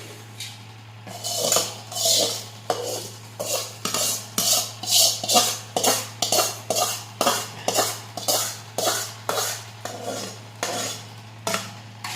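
Chivda is tossed and mixed in a pan with a rhythmic run of dry rustling, scraping strokes, about two per second, over a steady low hum, close up and without talking.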